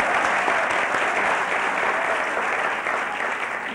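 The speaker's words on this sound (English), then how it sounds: "You can applaud yourself." The 1995 graduating class of the John F. Kennedy School of Government applauds at a ceremony, a loud, sustained, even roar of clapping from a large crowd, with no one speaking over it.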